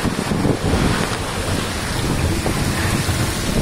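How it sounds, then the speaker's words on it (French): A violent nighttime thunderstorm in Togo roars as dense, loud, unbroken rain and wind battering close by, with a deep rumbling undertone throughout and no voices. "on vient de se prendre une énorme tempête."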